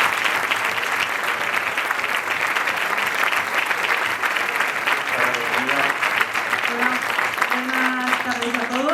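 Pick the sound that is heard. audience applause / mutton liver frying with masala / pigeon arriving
audience applause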